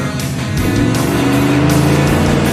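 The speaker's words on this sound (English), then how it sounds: "RPM's coming up. Camaro spins tires hard." A second-generation Chevrolet Camaro V8 revs hard and spins its tires at a drag strip, a loud, steady, close engine roar with rising pitch and tire squeal layered over it throughout.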